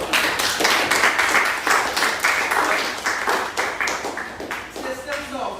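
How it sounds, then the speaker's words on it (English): Students in a classroom give a round of applause, with quick, close hand claps in a steady run. Voices speak over the clapping. "Give a round of applause."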